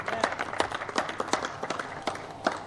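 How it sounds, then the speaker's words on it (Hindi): Audience applause at an opening ceremony for the film Lado Rani, honouring the Burk Association of Pakistan: scattered, uneven hand claps rising in sharp bursts over a low room murmur, moderately near and without a continuous roar. "बर्क एसोसिएशन के लिए तालियां"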